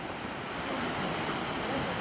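Sea waves wash over a stone-lined coastal path near L'Escalet and Saint-Tropez on the French Riviera, a steady, close surf rush mixed with wind noise, with no talking.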